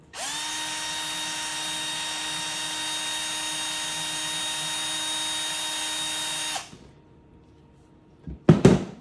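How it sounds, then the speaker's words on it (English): A grinding wheel grinds down the contact tip of a MIG welder, giving a loud, steady high whine for about six seconds that then spins down, followed by a few clunks. "use this grinding wheel, and just grind down that tip a little bit"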